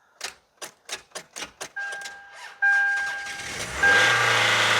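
A 90s Toyota Camry run with no oil cranks in a rapid series of even pulses after a jump start, then catches and runs, its engine holding a steady idle that rises in loudness near the end.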